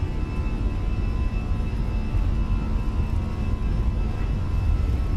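Jet engines of an Airbus A320 airliner, simulated in a flight simulator, roaring steadily at takeoff thrust with a continuous broadband rumble and a faint high whine, loud and unbroken throughout.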